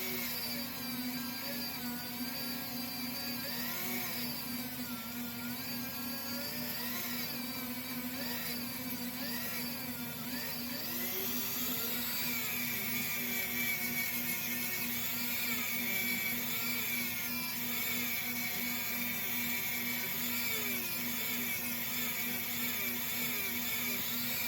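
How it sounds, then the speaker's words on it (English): A Dremel 512E finishing abrasive buff spins against a coin ring, a high steady motorized whine with shifting pitch as it bears on the metal, continuous and close, with no talk. "I'm going to use my Dremel 512E finishing abrasive buff to accomplish that"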